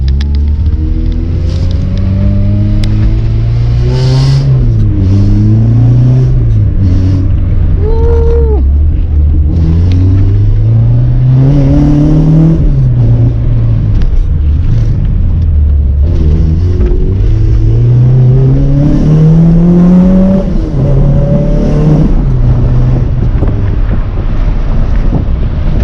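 A Honda Civic EF hatchback with a 5-speed manual and B-series engine driving around the block, its engine note rising and falling through several gear pulls under heavy wind buffeting on the microphone.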